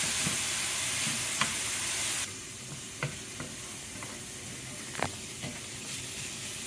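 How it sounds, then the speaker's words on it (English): Onions and garlic soften in oil over low heat, making a steady broadband sizzle with a few faint utensil taps, the hiss dropping somewhat in level partway through. "Okay, the onions and the garlic are softened."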